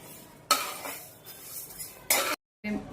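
Fenugreek seeds being stirred and dry-roasted in a pan, with spoon scrapes and clinks against the metal in short bursts separated by brief pauses, close and moderately loud.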